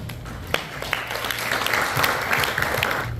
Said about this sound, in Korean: 우리 박수로 하시면 감사하겠습니다.